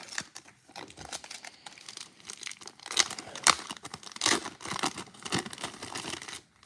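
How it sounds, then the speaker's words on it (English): Foil wrapper of a 1990 Fleer football card pack being torn open and crinkled by hand, a close, busy run of crackling rips and rustles with sharper tears near the middle, no talking. "Let's move the stack and rip a pack."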